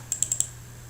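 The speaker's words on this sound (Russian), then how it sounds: "Теперь произведем двойной щелчок на границе любых столбцов." A computer mouse gives two quick double-clicks, four sharp close clicks in rapid succession over a faint steady hum, with no talking.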